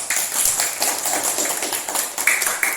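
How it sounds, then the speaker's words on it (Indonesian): Classroom group clapping hands, a brisk scattered patter of many claps at close range, fairly steady for a few seconds with a couple of louder bursts near the end. "Tepuk tangan."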